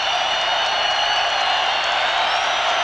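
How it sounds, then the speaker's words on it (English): Football stadium crowd roaring during a Cowboys at Eagles game in Philadelphia in 1992, a steady, loud, washing wall of cheering noise with no breaks. "Gant, he wants more crowd noise."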